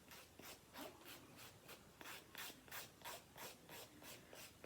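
Gel nail strips being filed with a nail file, a quiet close rasping stroke repeated in an even back-and-forth rhythm, about a dozen passes with no voices.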